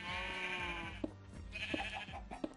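Sheep bleating in a survival video game, several short wavering bleats over a soft background murmur, fairly quiet and close.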